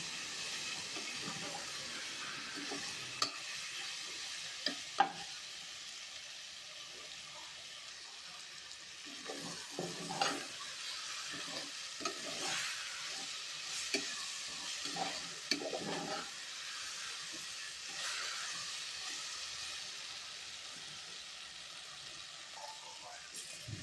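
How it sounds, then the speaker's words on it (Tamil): Tomatoes with salt sautéing in a pan for a home-cooked Tamil chicken kuzhambu, heard as soft, intermittent stirring scrapes and a faint steady sizzle at low volume. "உப்பும் சேர்த்து நல்லா வதக்குங்க."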